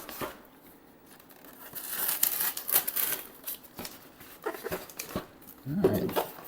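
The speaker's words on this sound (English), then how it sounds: "I'm actually gonna cut it open with the scissors today." Close-up crinkling and snipping as scissors cut through a cardboard box and packing tape, with irregular tearing and rustling bursts.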